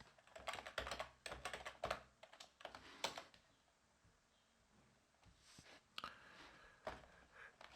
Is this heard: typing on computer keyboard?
yes